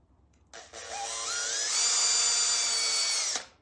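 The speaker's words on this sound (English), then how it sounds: "I'm just going to drill a little hole right here" A power drill drilling a small hole spins up with a rising whine, then holds a steady high-pitched drone for a few seconds before stopping abruptly.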